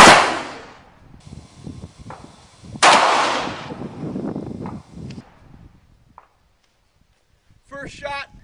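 A .454 Freedom Arms revolver loaded with Hornady 300 grain XTP bullets fires two loud, close shots a few seconds apart at an outdoor range, each with a rolling echo tail, followed by a short burst of talk.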